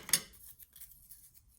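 A single crisp snip of scissors cutting paper strips for a smashbook, short and fairly close, followed by faint rustling of paper in a quiet room.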